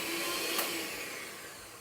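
An electric mixer whizzes brown and caster sugar with butter for chocolate chip cookies, giving a steady motor whir that holds at an even level for under two seconds, with no talking.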